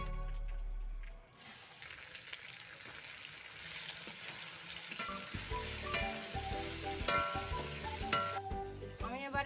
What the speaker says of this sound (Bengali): আমি টমেটো কুচিগুলো এবারে দিয়ে দিচ্ছি আমি মশলার সঙ্গে